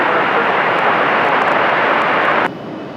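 An aircraft landing on runway 23 left at Raleigh-Durham International Airport makes a loud, steady roar that drops abruptly to a quieter rumble just before the end.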